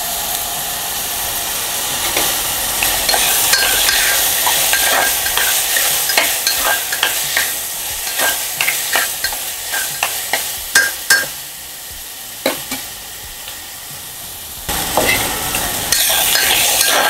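Onion fries in a pan with steady sizzling while a spoon scrapes and taps the metal in irregular strokes, close and loud, the hiss easing briefly before resuming.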